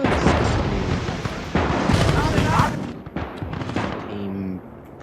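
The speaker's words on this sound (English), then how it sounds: "We'll get away from gunfire." Rapid bursts of gunfire and explosive blasts crackle loudly in the video game Gates of Hell during a tournament match, with a short tonal sound near the end.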